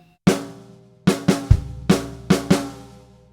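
A drum kit plays a short snare fill: a single opening hit, then a quick run of three sharp strikes with a low thud, followed by two more paired hits, each ringing out briefly.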